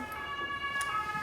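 Ambulance siren during a Swiss firefighters' emergency rescue, a steady wailing tone held throughout, fairly clear and loud against a background of street noise, with no talk over it.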